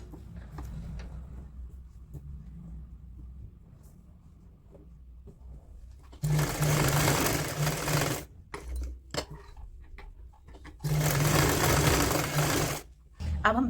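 An electric sewing machine stitches a woollen kurti in two loud, steady bursts of rapid needle whirring, each lasting about two seconds, separated by quiet pauses where a person talks softly.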